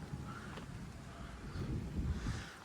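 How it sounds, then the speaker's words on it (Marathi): Gusty wind blows across open farmland ahead of a coming rainstorm, a low rumbling buffet on the microphone with soft rustling, steady and moderately loud with slight swells. "आता इकडून वारं सुटलंय बघा."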